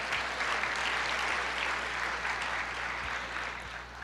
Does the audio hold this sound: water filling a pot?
no